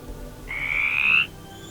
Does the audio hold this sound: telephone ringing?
no